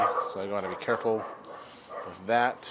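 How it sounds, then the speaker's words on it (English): Several dogs bark and yip in short, excited bursts in the background of a kitchen while someone scrubs an oven door clean, someone talking over the barking. "Dogs are going nuts"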